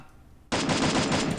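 After brief quiet, rapid automatic gunfire erupts loudly in the video game Free Fire, a fast steady burst of sharp shots lasting about a second.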